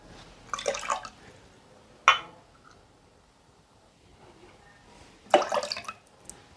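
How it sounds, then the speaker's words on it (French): Fresh homemade pineapple juice from Victoria pineapple poured into a cocktail glass, heard as a few short, close splashy bursts of liquid separated by quiet pauses. "On va venir y mettre un bon 10 centilitres."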